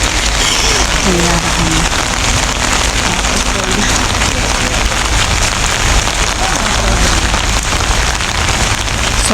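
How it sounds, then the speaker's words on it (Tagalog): Steady, dense rain falls on a street during a walk to a train station in Singapore, a loud continuous hiss throughout with faint voices or traffic underneath. "So, parang umuulan ngayon."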